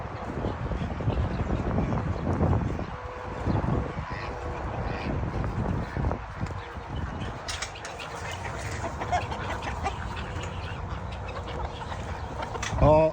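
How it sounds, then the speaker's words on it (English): Farmyard chickens and ducks clucking and calling on a small farm, a steady mix of bird noises close by with someone talking over them throughout. "Go introduce you to the chickens,"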